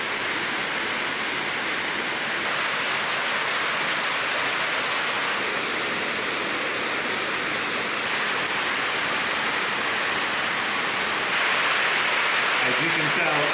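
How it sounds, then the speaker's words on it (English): Heavy rain pours steadily outdoors, a dense, loud, unbroken hiss from start to finish with a slight swell near the end. "As you can tell, it is raining pretty bad."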